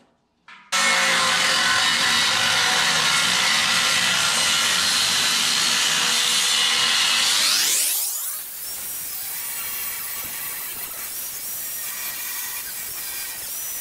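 Damaged rear mudguard sheet metal on a John Deere 3140 tractor is being cut out: a loud, harsh, continuous cutting whine runs for about seven seconds, then the tool spins down and fades to a quieter hum.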